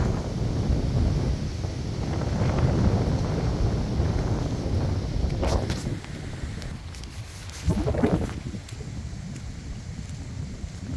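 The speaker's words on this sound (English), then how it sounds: "wind is blowing" Strong wind buffets a microphone on a road during a hurricane in St Elizabeth, a steady rough roar with a couple of sharper gusts, close and fairly loud with no talk.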